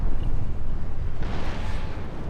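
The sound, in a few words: frigates firing cannons, video game Napoleon Total War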